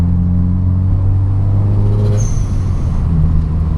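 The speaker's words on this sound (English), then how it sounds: "that blow-off valve" Subaru WRX engine droning under load, then a brief hissing whoosh from the blow-off valve as the throttle lifts, heard over constant low cabin rumble, no talk.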